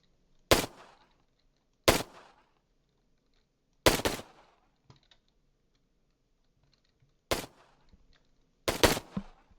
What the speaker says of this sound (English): When the player uses the left mouse button, an audible gunshot is heard.